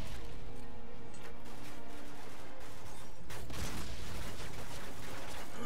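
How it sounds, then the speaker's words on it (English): Flashbang grenade detonating in Call of Duty: Modern Warfare 2, a dense, loud burst of crackling noise that fills the scene with a sharp broadband blast near the middle, surrounded by continuous chaotic game action. "No more flashbangs."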